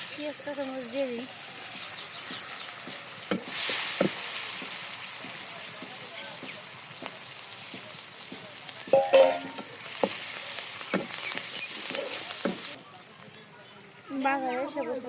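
Onion sizzles in hot oil in a village kitchen pan while a spoon scrapes and taps against it, steady frying hiss with intermittent stirring knocks and brief speech at the start and end.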